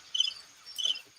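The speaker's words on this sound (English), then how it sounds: "Y'all hear the crickets in the background?" Crickets chirping in the background, two short faint trilling bursts about half a second apart, distant and alone against a quiet backdrop.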